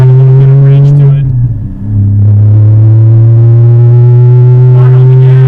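A race car on the Music City Grand Prix street circuit holds a loud, steady high-pitched engine whine with a brief dip as it shifts, then sustains at full throttle, close and dominant throughout.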